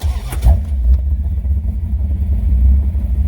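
A Porsche 914 with a V8 engine idles with a deep, loud rumbling burble close by, steady with slight pulsing and a brief higher blip near the start, no talking.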